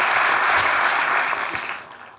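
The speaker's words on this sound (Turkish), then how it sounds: "Ceren Eken'i de alkışlayalım." Studio audience applause on a Turkish TV comedy sketch show, a dense steady wash of many hands clapping at full strength before tapering off near the end.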